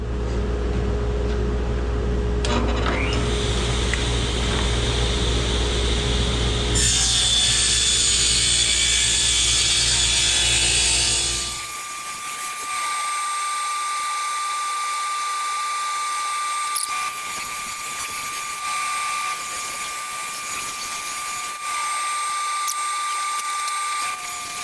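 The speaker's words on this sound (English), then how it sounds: "I made about 10 rips on that 8-foot length of 1-inch thick pine" Loud power-tool whine from a table saw ripping 1-inch thick pine boards, a busy high-pitched cut for about twelve seconds that drops to a steadier lower machine hum with occasional clicks.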